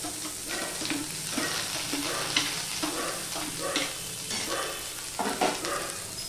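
Chopped onion and garlic sizzle steadily in hot spiced oil in a pan, a continuous loud frying hiss with occasional stirring scrapes and small pops throughout.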